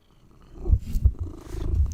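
A cat purrs right against the microphone, a low rumbling purr that swells louder over two seconds with a few soft thumps of movement.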